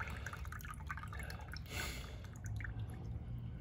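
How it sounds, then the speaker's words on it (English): Water poured off 100% white pine wood shavings runs in a steady stream and drips, with one brief louder splash midway. No voices are heard. "we're going to pour these off now and see what the overall level of absorbency has been"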